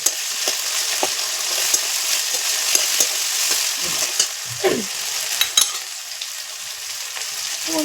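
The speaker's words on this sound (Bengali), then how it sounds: "পাঁচফোড়নটা দিয়ে দিলাম। এই যে কাঁচা লঙ্কা, তো একটু ভেজে নিতে হবে।" Green chillies and panch phoron fry in hot oil with a steady, bright sizzle throughout, broken by a few scraping stirs and spatters, close by with no talk.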